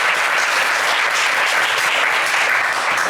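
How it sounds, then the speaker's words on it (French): Loud, dense audience applause fills a quiz game show studio, clapping for the selected candidates in a continuous roar without a break. "sélectionnés, on va les applaudir très fort."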